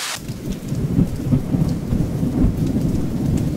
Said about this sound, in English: gentle rainfall with distant thunder